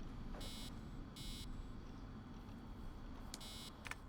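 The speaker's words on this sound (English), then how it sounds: "Stop beeping, I know." Repeated electronic beeping alarm in Assassin's Creed Origins, three short bursts spaced about a second apart and then a pair of quicker chirps, sounding over a steady low background hum with no talking.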